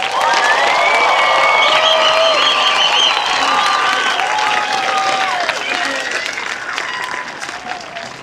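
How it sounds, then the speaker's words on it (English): Loud, sustained applause from a large crowd at a high school graduation ceremony, with scattered cheers and whistles, gradually thinning toward the end. "could we please give our graduates another round of applause?"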